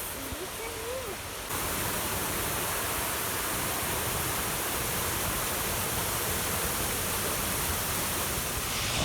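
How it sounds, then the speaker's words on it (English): Creek flowing near a waterfall in the woods near Glasgow, Virginia, a steady broadband rush of water filling the whole clip, fairly faint and constant, with a short voice at the very start. "I can hear the creek."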